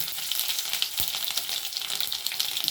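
Mustard seeds, cumin, bay leaves and chopped garlic sizzle softly in hot oil for a spiny gourd curry, a steady crackling fry with one dull knock partway through.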